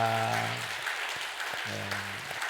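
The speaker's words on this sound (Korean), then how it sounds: "우리 힘차게 옆에 분 바라보고 박수 한번 하겠습니다" A church congregation claps together during a Sunday worship service, a steady wash of many hands with brief sustained tonal notes rising over the clapping near the start and again later.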